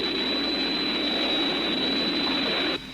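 Aircraft passing over a rescue zone near a relay tower: a continuous, fairly loud engine roar with a high whining tone holds steady for nearly three seconds, then drops away, with no speech over it.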